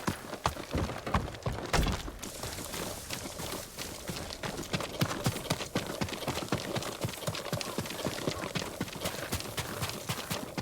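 A horse's hooves clip-clop steadily at a brisk pace in the samurai video game Ghost of Tsushima, the rhythmic beats close and continuous, with no talking over them.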